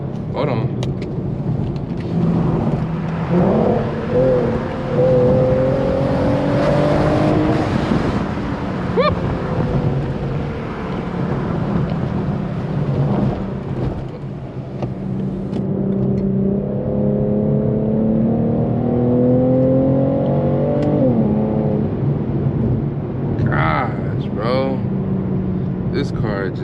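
A tuned Infiniti Q50S running E85 fuel accelerates hard, its engine note climbing in two long rising sweeps through the gears with loud, sustained intake and exhaust drone. Excited voices are heard over the engine.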